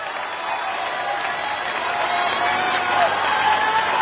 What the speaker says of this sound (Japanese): 皆さん安倍候補に今一度大きな拍手をお願いいたします。